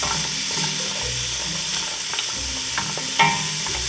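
Carrots and onion fry in a pot over medium-high heat, a steady close sizzle and crackle with soft stirring scrapes and a small clink near the end.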